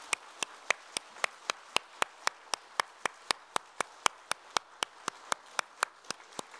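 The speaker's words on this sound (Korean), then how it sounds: "우리 성도 여러분께서는 박수로 환영해 주시길 바랍니다" A single steady hand clap repeats about every quarter second, even and close, with a faint room background and no talk. It is heard as a church congregation welcomes newly baptized children at a Korean Sunday service.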